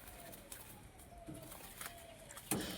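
Domestic pigeons at a home loft give soft, low cooing calls in short bursts, faint against quiet background noise.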